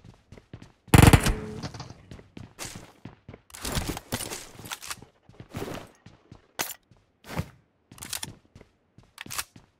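Shotgun blasts in a battle royale video game: one loud close shot followed by scattered sharper reports and gaps, with footsteps and small clicks in between, no talk over it.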